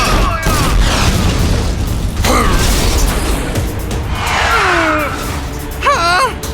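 A steel cannonball fires in an animated Hindi children's car cartoon, with a booming mechanical burst and creaking, ratcheting clatter, then whooshing, sweeping effects and chirpy tones near the end, loud and close.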